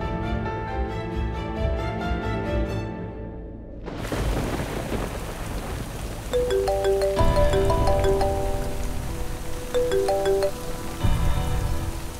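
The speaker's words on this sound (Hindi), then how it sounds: "एक्चुअली बारिश बहुत हो रही है।" Heavy rain falls steadily with a dense hiss, first under a bright musical score, then with louder drumming and scattered drops as the music thins out.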